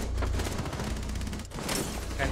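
Rapid bursts of gunfire from Rainbow Six Siege crackle in quick succession, loud and close, with a brief gap midway before another volley.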